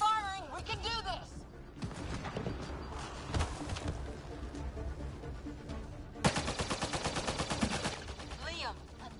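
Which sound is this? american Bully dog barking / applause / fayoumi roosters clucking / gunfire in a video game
gunfire in a video game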